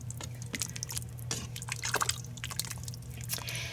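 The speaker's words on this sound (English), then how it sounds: "Let's stir this up." Zuppa Toscana soup with heavy whipping cream being stirred in a pot, giving soft wet sloshing and dripping sounds with a few spoon scrapes over a steady low hum, close and fairly quiet.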